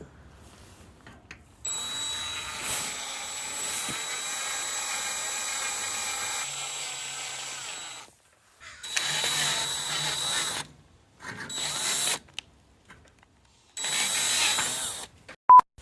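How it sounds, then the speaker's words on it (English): A power drill whines in several bursts, one long run then shorter ones, separated by brief silences. "So you take a little bit and you put it on the drill bit."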